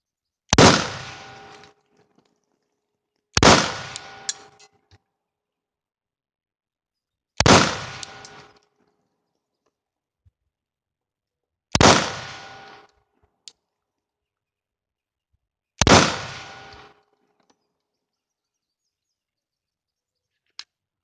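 Five single shots from a Glock 30S .45 ACP handgun fired at about 7 yards, each a sharp loud crack with a short decaying tail, spaced several seconds apart outdoors.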